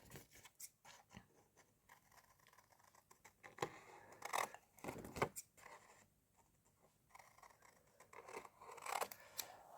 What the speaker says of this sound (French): On va venir découper nos petits angles.